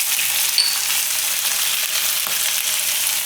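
Potatoes and peas cook in oil with salt, stirred now and then, giving a steady, loud, close frying sizzle that holds evenly throughout with faint stirring scrapes.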